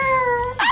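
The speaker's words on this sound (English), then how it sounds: "What a courageous cat." A single short meow from a house cat, a steady tonal cry that ends in a brief rising squeal, close and clear with no other sounds.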